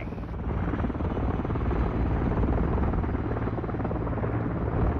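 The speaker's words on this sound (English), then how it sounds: "how long is this chopper gonna last, bro?" A helicopter in the Call of Duty: Modern Warfare III video game, a continuous loud rotor chop with a steady rhythmic thrum that stays close and even throughout.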